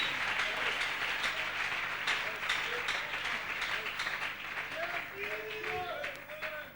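A church congregation applauds and cheers for Jesus, a dense sustained crowd of clapping mixed with shouting voices that tapers slightly near the end.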